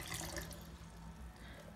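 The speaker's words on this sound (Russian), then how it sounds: "перед использованием попробую залить в него воды" Water pouring into the plastic bowl of a Homestar HS-2011 blender, a steady close splashing and trickling stream that runs through the whole short stretch with no talk.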